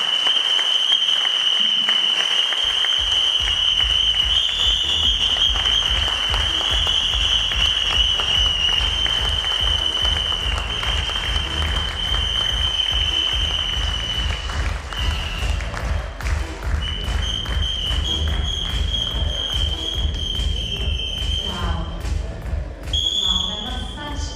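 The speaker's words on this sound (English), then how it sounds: "Ladies and gentlemen, standing ovation to Rajesh" Standing ovation for a speaker at the TRRAIN Retail Awards 2022 ceremony: loud, dense applause from a large crowd with rapid clapping and rhythmic low thumps, plus a sustained tonal ring, continuing throughout.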